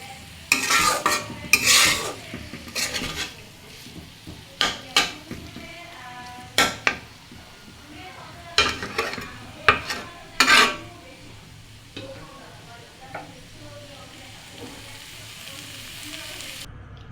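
Potato and dried fish chutney stirred in a frying pan, with repeated scraping strokes of a utensil against the pan over a low sizzle, close and clear, in irregular bursts.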